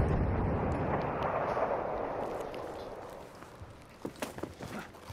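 Sturmtiger tank shells firing in Battlefield V Firestorm, heard as a dense rumbling barrage of distant booms that fades, then a few sharper impacts near the end.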